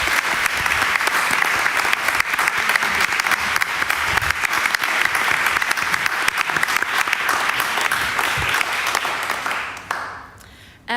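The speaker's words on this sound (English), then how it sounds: "A warm round of applause for Katarina and Katarina Babkina." At a European literature night, the audience gives a warm, sustained round of applause, loud and dense for about ten seconds before tapering off at the end.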